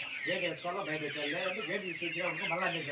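Several Sonali chickens cluck close by in quick, overlapping bursts, a busy flock chattering continuously.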